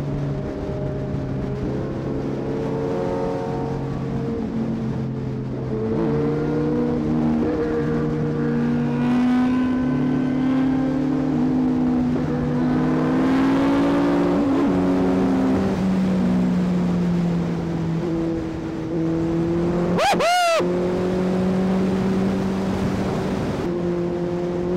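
A superbike ridden on a foggy road gives a steady, loud engine drone whose pitch rises and falls with shifting and throttle, carried under heavy wind rush close to the rider, with a brief sharp rev near the end.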